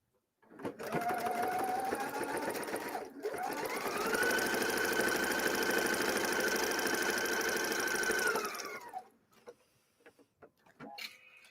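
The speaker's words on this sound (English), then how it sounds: "now I am doing directional stitching" A sewing machine stitching heavy specialty fabric runs in two long, steady whirring bursts with a brief pause between, close and loud, then stops with a few handling clicks.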